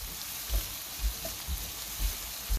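Ginger garlic paste fries with onion in a pan for a vegetable stir fry, giving a steady close sizzle broken by soft, regular bumps from stirring, with no voices.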